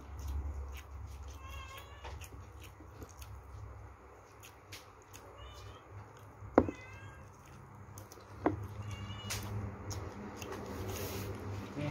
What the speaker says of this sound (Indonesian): Tahu kucing siapa?